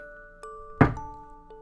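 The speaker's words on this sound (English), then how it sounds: "A bang on the door forced a gasp from Orsa." A single sharp bang on a door in a dark fairy-tale story lands once, loud and close, against a faint sustained tonal hum.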